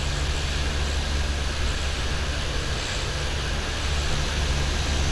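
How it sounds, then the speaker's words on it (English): Flight-simulator aircraft cruising from Southampton to Jersey, a steady, loud engine drone with constant low rumble and broadband hiss, unbroken for the whole stretch with no talking. "Listen to the sound of that aircraft."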